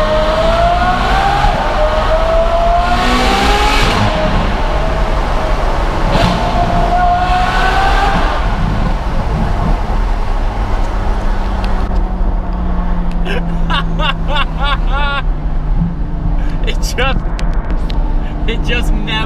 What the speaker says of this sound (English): It sounds like an actual F1 car, but when they were awesome